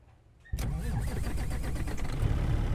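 A truck engine in a truck driving game cranks and catches abruptly, then settles into a steady, loud rumbling idle that swells slightly near the end, with no talk over it.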